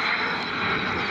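A Messerschmitt Bf-109G-4 fighter flies at the ILA 2010 Berlin air show, its engine a steady, fairly loud drone across one brief stretch.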